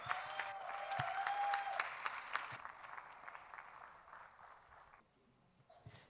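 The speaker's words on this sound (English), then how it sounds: "definitely calls for another round of applause" A school audience gives a short round of applause for an orchestra at an inter-house music competition. The clapping is moderate and fades out over several seconds, with a faint tone audible early on.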